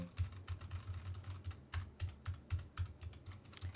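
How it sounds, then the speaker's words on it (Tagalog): Normal-speed typing on a mechanical keyboard with Gateron brown switches: a quiet, steady run of soft key clacks at a brisk, even rhythm, heard alone. "So, ito yung normal na typing."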